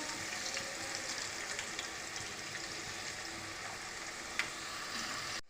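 Green chillies frying in hot tempering oil for Gujarati muthia, a steady broadband sizzle running the whole time with one brief sharp crackle near the end, no voices.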